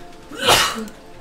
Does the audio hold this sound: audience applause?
no